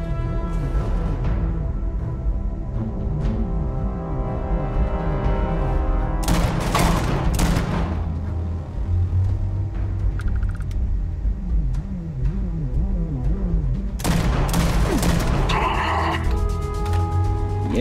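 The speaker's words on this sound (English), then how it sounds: "I love this shotgun." Shotgun blasts in the game Starfield: a few loud, sharp bursts at irregular intervals cutting through a steady droning music and ambient bed, close and heavy.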